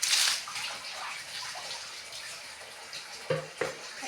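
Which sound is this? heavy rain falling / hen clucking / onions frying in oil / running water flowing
running water flowing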